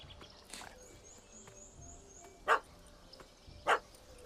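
A dog barks at a cat up a tree in The Witcher 3: Wild Hunt, two sharp, separate barks at moderate distance over a quiet outdoor ambience.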